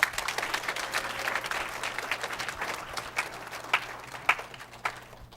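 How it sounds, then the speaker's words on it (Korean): Applause from a community anniversary meeting audience after a vocal duet, moderately loud crowd clapping with a steady hum underneath, thinning into scattered individual claps toward the end. "Let's give them a big round of applause for their fantastic duet song."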